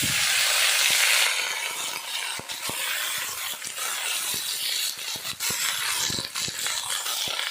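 Cauliflower stalks and vegetables with ground fenugreek sizzle and fry steadily in a pan, with a loud initial burst of hiss settling into continuous crackling and scattered clinks and stirring knocks, no voices.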